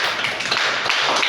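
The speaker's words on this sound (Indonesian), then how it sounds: "tepuk tangan untuk Indah." A brief burst of audience applause for a presenter at a learning workshop, many hands clapping together steadily and fairly close, with no talking over it.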